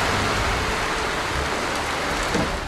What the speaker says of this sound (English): another afternoon blast of pelting rain